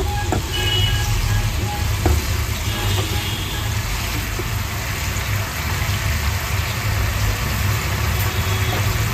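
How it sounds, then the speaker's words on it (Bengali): Fish curry gravy bubbling in a pan, a steady loud sizzling and simmering hiss that runs continuously and close, with no talk over it. "দেখুন গ্রেভিটা একটুখানি ভালো করে আমি ফুটিয়ে নেব"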